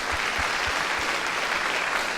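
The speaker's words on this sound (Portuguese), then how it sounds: "Vamos aplaudir a Deus por esta palavra." A church congregation applauds together in sustained, steady clapping, a dense wash of hands with a few low thumps, filling the whole stretch without any talk over it.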